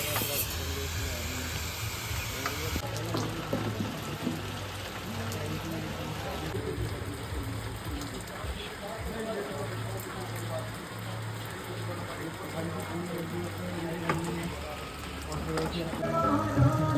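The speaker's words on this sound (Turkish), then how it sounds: "bir anda bulutlar geldi ve yağmur başladı" Steady rain patters and hisses on surfaces nearby in Rishikesh, India, with a low background hum and occasional voices underneath.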